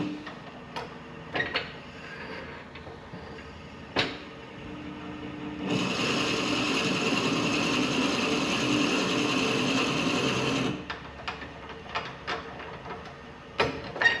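A Forstner bit drills into a walnut pepper mill blank on a lathe, a steady whirring grind lasting about five seconds between scattered clicks and knocks of tool handling.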